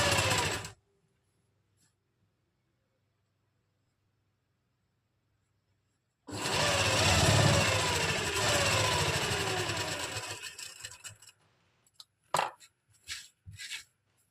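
Sewing machine stitching kameez lining fabric: after a brief burst and a long silence, a loud continuous mechanical whirr of rapid stitching runs for about four seconds, then fades into a few short, separate runs.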